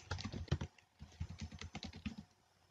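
Quiet, rapid keystrokes on a computer keyboard, a burst of typing with a short pause and then a steady run of clicks, close and soft with no talking.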